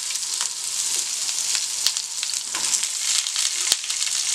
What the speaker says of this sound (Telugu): ఇప్పుడు దీంట్లో కొంచెం లావుగా కట్ చేసుకున్న ఉల్లిపాయలు వేసుకుందాం.